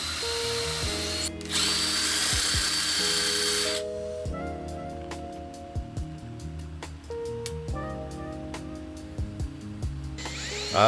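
A power drill fitted with a countersink bit bores into cedar in several short whirring bursts, each one rising and falling in pitch. Between the bursts come clicks and handling noises, heard close up.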